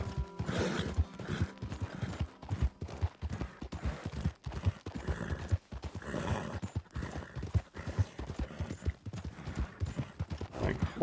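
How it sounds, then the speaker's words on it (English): Galloping horse hooves in Red Dead Redemption 2 on Xbox One, a fast rhythmic clip-clop of a quick horse with occasional snorts, steady and fairly close, no talk over it. "fast horse, and the handling of the horse is fantastic"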